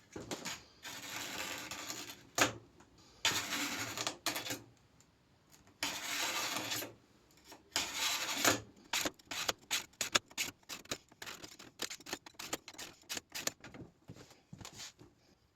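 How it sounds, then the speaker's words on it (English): A perspex sheet is scraped with a sharp-tipped tool, first in several longer rasping strokes, then in a run of quick, short scratches, all close and fairly quiet. "I'm just going to use to scrape halfway through, turn it over, scrape halfway through again, like this"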